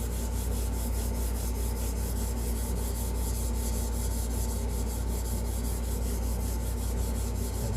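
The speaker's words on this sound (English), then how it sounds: "And this is 400 grit sandpaper." Sandpaper of 400 grit is worked by hand in steady back-and-forth strokes, making a continuous, evenly rhythmic rubbing rasp up close with no pauses.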